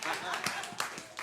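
A church congregation applauds the dancers during a Sunday morning service, a short burst of scattered hand claps heard fairly faintly.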